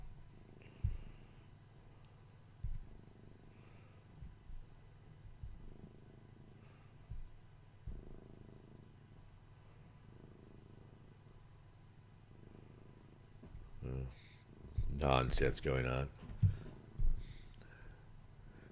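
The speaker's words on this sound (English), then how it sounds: "Can you hear this cat?" A cat purrs steadily and close by through most of the stretch, with a loud burst of clatter and noise near the end and a few brief spoken words.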